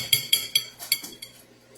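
A metal spoon clinking against dishes while cooking, five or six bright, ringing taps in quick succession, close and clear, fading slightly toward the end with no voices.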